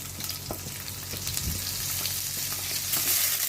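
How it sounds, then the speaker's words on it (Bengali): Raw onions hit hot oil and sizzle loudly, a bright crackling hiss that keeps building, broken by a few sharp stirring knocks of a utensil against the pan. "তেল দেবার সঙ্গে সঙ্গে আমি কাঁচা পেঁয়াজগুলো দিয়ে দিলাম।"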